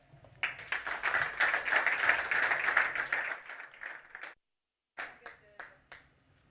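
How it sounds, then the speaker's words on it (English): Audience applause at a smart tourism tech event, close, lively clapping that swells and runs for a few seconds, cuts off abruptly into silence, then returns as a few scattered claps with faint voices. "Please give a round of applause to Lydia Greshina, founder of Last Call."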